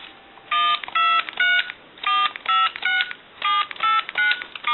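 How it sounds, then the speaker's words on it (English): Telephone tones sound on an intercom line: clear, loud bursts of dialing tones, several quick beeps in irregular groups with short gaps between them, alone with no voices. "we have dial tone."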